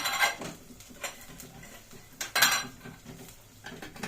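Onion and tomato paste cooking in a pan, heard as scattered metallic scrapes and clinks of a utensil stirring against the pan, close and intermittent with no talking.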